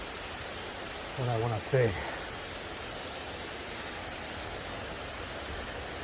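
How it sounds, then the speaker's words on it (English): Small waterfall at Sulphur Creek Falls, a steady faint wash of falling water that holds evenly throughout, with a brief spoken phrase near the start. "there was the Sulphur Creek Falls, if I'm saying it right. Beautiful little creek, beautiful little falls"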